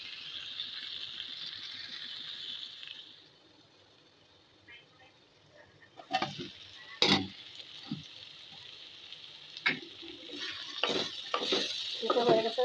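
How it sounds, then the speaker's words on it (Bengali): Red yardlong beans in a pan, with a steady sizzle at first, then a quiet stretch followed by scattered sharp scrapes and clanks of stirring against the pan, close by. "বরবটিগুলো কিছু করে রাখছিলাম দিয়ে দিচ্ছি। এখন নেড়ে ছেড়ে দেখে দেবো।"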